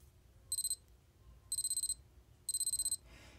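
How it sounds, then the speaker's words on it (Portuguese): Three short bursts of rapid, high-pitched electronic beeps from a Canalli windsurf D120 wristwatch alarm, evenly spaced about a second apart over faint background hiss. "Tradicional alarme, que é um grilinho."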